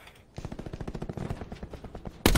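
Rapid automatic gunfire from the video game Call of Duty: Black Ops 4 rattles in a steady burst of close shots, ending with one sharp, loud blast.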